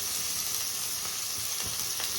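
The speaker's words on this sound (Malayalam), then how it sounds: "നമ്മൾ കട്ട് ചെയ്ത വെജിറ്റബിൾസ് അതിൻ്റെ അകത്തോട്ട് ഇട്ട് കൊടുക്കാം." Chopped vegetables for a soya chunks dish frying in hot oil, a dense steady sizzle close by with faint stirring, no one talking.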